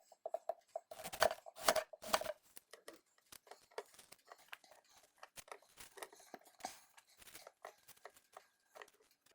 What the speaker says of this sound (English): I've got my apple cored right here, and I wanna cut these into slices.